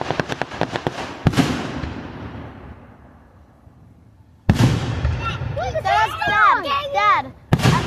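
Fireworks in Ohio go off in sharp, loud booming bursts. One blast rings out and decays before another cracks in, with voices and excited talk between the explosions.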